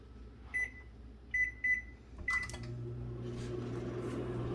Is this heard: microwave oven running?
yes